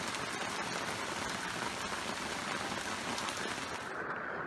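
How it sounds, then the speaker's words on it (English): Heavy rain pours down outside an RV, a dense, steady hiss and patter drumming on the roof and surroundings, loud and unbroken throughout with no voices. "I think you can hear the rain outside. It's coming down pretty hard."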